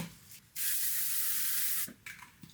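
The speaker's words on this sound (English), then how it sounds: "now I'm using the L'Oreal Paris Infallible 3-Second Setting Mist" A single steady hiss of L'Oreal Paris Infallible 3-Second Setting Mist lasting about a second, close and fairly loud, with quiet handling sounds before and after.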